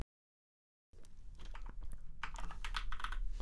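Typing on a computer keyboard while coding a Node.js server, a quick run of close, crisp key clicks that starts after a short silence and continues steadily with no talking.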